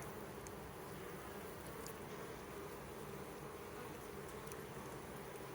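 Honeybees buzz at a small, weak hive housing a young swarm that arrived early in the year. A continuous, soft, dense drone holds steady throughout, with a few brief higher whines as individual bees pass close.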